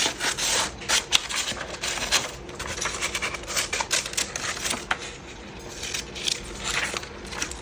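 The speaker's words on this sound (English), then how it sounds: "I'm going to cut out a piece from here." Scissors snip through paper for a craft journal, a quiet run of crisp, irregular cutting and rustling strokes close up, with no talking.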